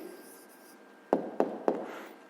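Pen strokes on paper as an answer is written out for a fifth-grade maths exercise: three sharp, evenly spaced scratches close to the microphone over a quiet room hum.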